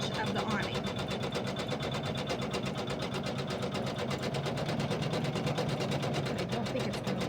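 An embroidery sewing machine runs satin stitches with a steady, rapid mechanical chatter and a continuous motor hum, close and constant throughout, with no pauses.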